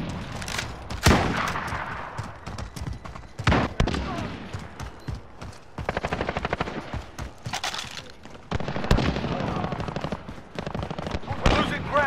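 Rapid automatic gunfire crackles in a Call of Duty team deathmatch, coming in bursts of sharp repeated shots with short pauses between them, close and loud, with players talking throughout.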